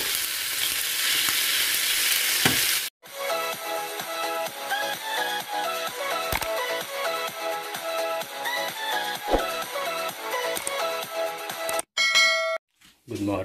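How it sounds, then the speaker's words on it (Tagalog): Arroz caldo cooking in a pot, with a spoon stirring and scraping through the simmering rice porridge amid steady sizzling and occasional metallic clinks, fairly loud and continuous, with a brief burst of voice near the start. "haluin natin. Haluin ang haluin."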